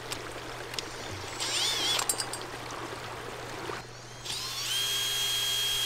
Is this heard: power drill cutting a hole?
yes